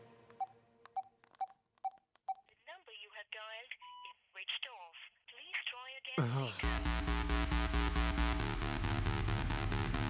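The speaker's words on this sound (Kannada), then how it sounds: "ದೀಕ್ಷಾಗ್ ಫೋನ್ ಮಾಡಿ ನೋಡ್ತೀನಿ." A run of evenly spaced dial tones, then a fast string of keypad beeps and a ringing tone, before loud music takes over.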